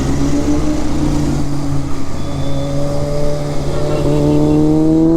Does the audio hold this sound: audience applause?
no